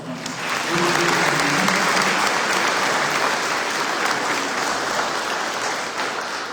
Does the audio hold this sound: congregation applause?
yes